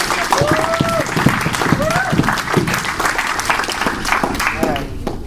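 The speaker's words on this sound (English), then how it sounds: "give him a big round of applause" An audience applauds an Olympic champion wrestler at a collegiate wrestling clinic. The clapping is steady and dense, and a few voices call out over it.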